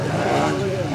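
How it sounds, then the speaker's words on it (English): A model aircraft engine at an outdoor air show drones steadily, its pitch shifting slightly as the plane rolls, loud and continuous. "Here the note of the engine changing, using the prop torque to help with the roll and also manage the aircraft speed."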